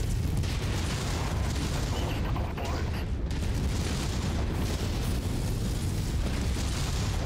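Ammo explosion in MechWarrior 5 amid heavy combat, a loud continuous rumbling blast with dense low-end booms and crackling debris, with a player talking over it.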